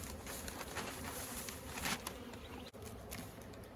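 Dense buzzing of many honey bees close by at a hive, a continuous droning hum with faint scattered taps, no voices.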